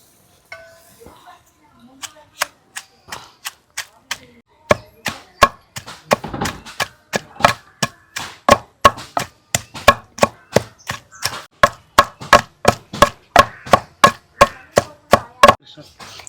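Green chillies and tamarind pounded in a stone mortar, village style: a steady run of sharp, evenly spaced strikes that quicken and grow louder, close and alone with no talk.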